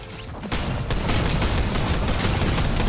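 Dense, continuous gunfire in the video game Fortnite, rapid overlapping shots and crashes forming a loud, sustained barrage after a brief quieter start.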